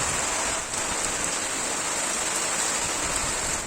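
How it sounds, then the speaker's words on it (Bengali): Steady rain falling outside, a dense, even hiss of drops on surfaces that carries on without a break. "আর বাইরে অলরেডি বৃষ্টি শুরু হয়ে গেছে।"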